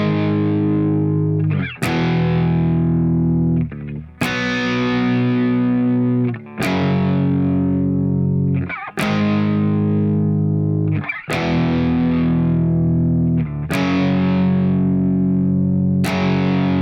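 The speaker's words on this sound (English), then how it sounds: "So it's just ringing out power chords." Distorted electric guitar strikes and rings out power chords for a rhythm part, seven hard strums each left to sustain for about two seconds, loud and close, with no voice over it.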